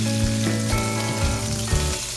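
One kilogram of chicken searing in a hot pan, a dense, steady sizzle close up with small crackles and bursts throughout.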